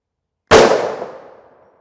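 A single sharp gunshot from a JSP round striking a ShotStop Level IIIA armor clipboard, loud and close, with a long ringing decay trailing off over about a second.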